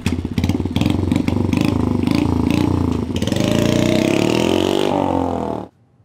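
Honda Z50 mini motorcycle fitted with a vintage Super Trap exhaust, its small engine putting out a loud, close, rapid popping idle that revs and climbs in pitch before cutting off abruptly, with no talking.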